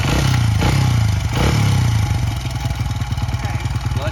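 A Honda CRF100F kids' dirt bike engine runs with a low, rough mid-pitched drone and some mechanical clatter, swelling briefly as the throttle opens then settling into a steady, pulsing idle close by.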